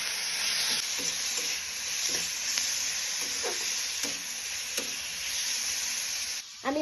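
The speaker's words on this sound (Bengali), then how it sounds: "আর এটাকে ভালো করে ভেজে নেব।" Potatoes and onions seasoned with salt, chili powder and turmeric fry in a pan, a steady close sizzle with intermittent scraping stirs throughout.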